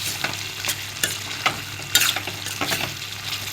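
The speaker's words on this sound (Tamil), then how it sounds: "ஆட் பண்ணிவிட்டு பாருங்கள், ஒரு பெரட்டணும் எல்லாமே." A spoon stirs mutton masala as it fries and sizzles in a pan. Scraping strokes come close and fairly loud, in an irregular rhythm over a steady frying hiss, with no voices.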